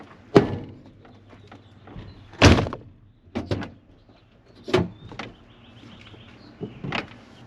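The door of an OBS Chevy truck (1988-2000) fitted with new Cunningham machine hinge pins opens and shuts repeatedly, giving several sharp thunks and latch clicks spaced through the stretch, close and fairly loud.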